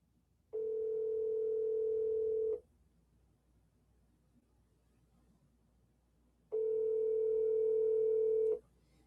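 An outgoing phone call rings out with two long, steady ringback tones about two seconds each, separated by a quiet gap, heard clearly with no one answering.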